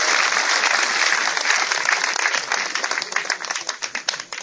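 A church congregation applauds to acclaim Jesus Christ, dense loud clapping that thins into scattered, uneven claps as it fades.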